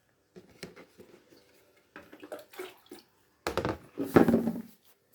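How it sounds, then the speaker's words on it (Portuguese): Water is scooped and poured into a bucket to make tea, several splashing pours and drips arriving in irregular bursts, growing louder toward the end, close and without talk. "A água vou tirar nesse balde aqui."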